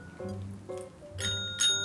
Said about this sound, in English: Okay, remember the bell?